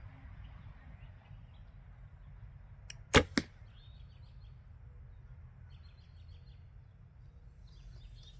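An arrow loosed from a bow during bowhunting shooting practice gives a sharp, brief double snap-and-thud in the middle, standing alone over a faint outdoor background with light birdsong.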